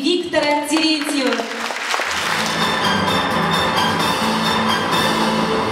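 Concert audience applauding two honoured guests at an orchestral song show; a voice and tonal music fade out in the first two seconds, then steady crowd clapping continues under a low sustained tone.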